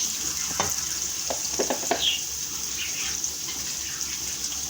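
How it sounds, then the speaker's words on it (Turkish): Onions and peppers sizzling and frying in oil with a constant hiss, a few clicks of stirring early on, close and steady without speech. "Soğanımız, biberimiz kavrulmaya başladı."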